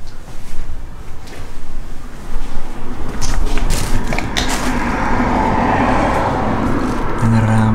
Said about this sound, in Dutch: ik hoor die auto zo goed